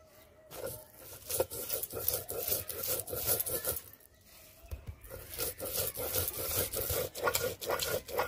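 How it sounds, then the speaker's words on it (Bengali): Mustard seeds, dried chilli and raw taro being ground into paste on a grinding stone: steady repeated rasping rubs of stone on stone, close and continuous with short pauses, no talk. "শুকনো লঙ্কা আর সরষে একসাথে বেটে নিয়েছি, এবারে এগুলো সব একসাথে নিয়ে আবার বেটে নেব।"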